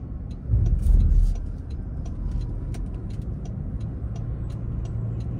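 Interior road noise from an all-wheel-drive 2024 Toyota Grand Highlander being driven, a low steady rumble that briefly swells louder near the start before settling into an even hum with faint ticks and no talking.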